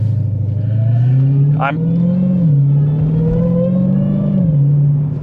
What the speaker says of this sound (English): barely touching that throttle, and it just wants to go